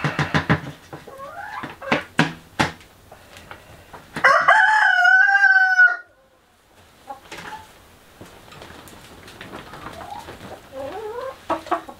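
Backyard chickens cluck and call near the coop, with a sustained loud crowing-like squawk in the middle, quieter clucks before and after, and no talking.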